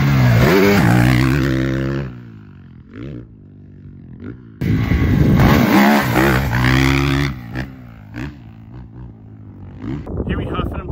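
A 2024 KTM 450 dirt bike engine revs hard and loud on a track, rising and falling through several throttle bursts, with a brief lull in the middle.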